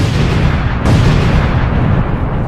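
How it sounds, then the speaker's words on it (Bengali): Sticky bombs detonating in a video game, a dense, loud, continuous roar of overlapping explosions with a heavier low rumble that surges near the start and keeps booming without pause. "আমি অনেকগুলো স্টিকি বম লাগিয়ে দিয়েছি, এবার এগুলো ব্লাস্ট করতে হবে।"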